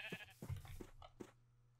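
Sheep in the video game Minecraft bleating: several short, close bleats spaced unevenly over under two seconds, over a low steady hum.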